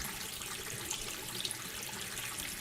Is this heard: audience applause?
no